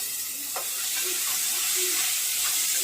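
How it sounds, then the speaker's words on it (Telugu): Turmeric and tomato pieces fry in a pan, producing a bright, continuous hiss. A few soft clinks and stirring scrapes occur throughout, close by and with no speech. "తర్వాత ఇప్పుడు కొంచెం పసుపు వేసుకుంటున్నా తర్వాత టమాటా ముక్కలు వేసుకుని"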